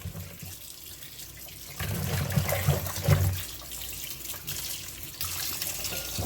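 Water splashes and runs as food is rinsed by hand in a bowl of water during home cooking of a Haitian creamy drink, with steady close sloshing that swells in the middle.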